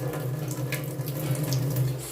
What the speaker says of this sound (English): Now just add some water from the tap.